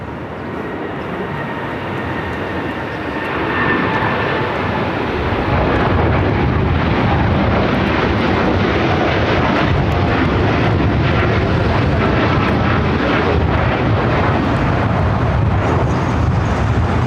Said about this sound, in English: Looks like a United Dreamliner, rocking and rolling down